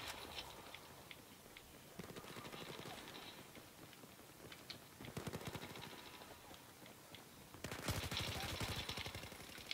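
Battlefield 4 gunfire from an L85A2 rifle, rapid bursts of automatic shots crackling in quick runs with louder volleys near the end, fairly faint and distant-sounding overall.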